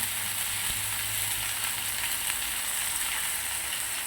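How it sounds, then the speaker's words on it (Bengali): Chilli chicken frying hard with soy sauce and Kashmiri chilli powder in a pan, giving a loud, continuous close-up sizzle that holds steady throughout with a faint stir partway in. "এটা আর বেশি ভাজবো না"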